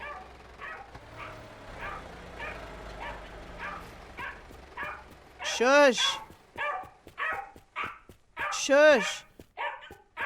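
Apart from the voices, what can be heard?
dog barking and whimpering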